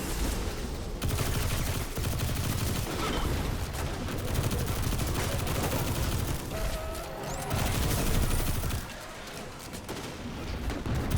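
Sustained gunfire from the shooter video game Destiny 2, with dense rapid bursts and booming shots running almost continuously at close range, briefly easing near the end.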